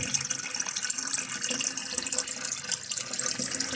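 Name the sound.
water running from a faulty toilet fill valve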